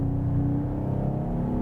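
Mercedes-AMG GT 43 four-door with a turbocharged straight-six engine accelerating, a steady droning engine note with a low hum, heard from inside the car at moderate level for a short stretch with no talk.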